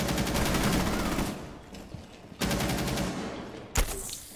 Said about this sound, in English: Somebody just shot me through this one.